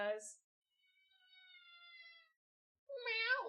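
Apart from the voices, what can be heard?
cat meowing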